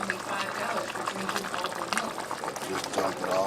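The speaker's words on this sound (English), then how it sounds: "Pour some more of the sauce." Sauce poured into a cooking pot of greens, a continuous wet pouring and bubbling sound with faint clatter, close by and steady for a few seconds.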